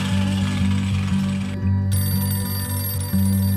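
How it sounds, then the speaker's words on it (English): A telephone rings insistently in a loud, repeating trill with a brief gap partway through, close and unaccompanied by any voices. "Are you gonna get that fucking phone or what?"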